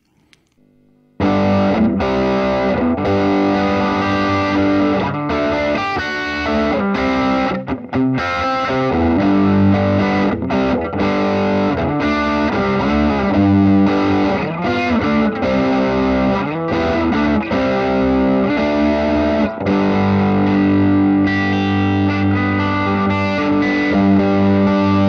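Electric guitar played through a Blackstar HT-5 amp on the overdrive channel with gain at halfway, giving a loud, continuous distorted tone with chords and riffs for over twenty seconds after a brief quiet start.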